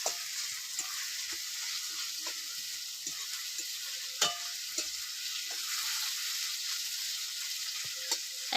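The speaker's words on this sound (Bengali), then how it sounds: "পেঁয়াজটা ভালো করে লাল লাল করে ভেজে নেব।" Onions fry in oil in a kadai for a prawn curry. A quiet, steady sizzle runs throughout, with scattered scraping clicks and taps as they are stirred.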